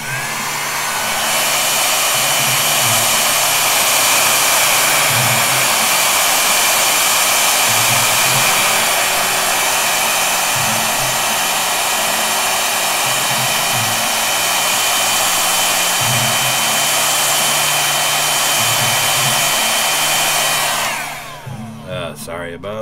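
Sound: heat tool blowing hot air to set ink on textile

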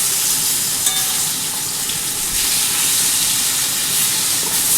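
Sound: fish frying in oil

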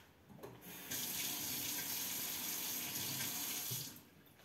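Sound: paintbrush being rinsed under running tap water

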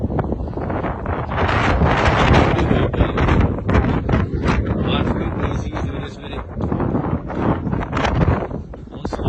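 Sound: strong wind blowing at Niagara Falls

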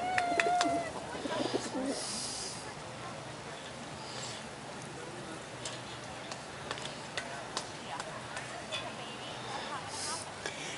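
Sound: chickens clucking at feeding time

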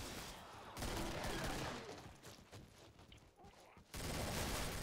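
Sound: gunfire in the video game Killing Floor

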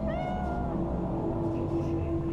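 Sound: cat meowing in video game Cyberpunk 2077

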